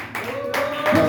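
Church congregation clapping in ovation during a Sunday worship service, steady dense applause from a crowd with voices and a sustained tone mixed in.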